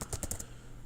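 A computer keyboard is tapped to enter a password, five quick close keystrokes in a short burst that then falls silent.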